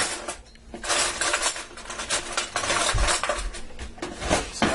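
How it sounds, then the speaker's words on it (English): Metal spoons and cutlery clink and rattle close by in a kitchen as another spoon is grabbed for soup tasting, a busy run of jangling strikes with no voices. "Grab another spoon"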